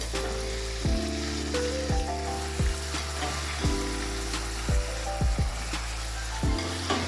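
Potatoes sizzling and frying in a pan, a steady crackling hiss with occasional scraping and clinking of a utensil stirring them.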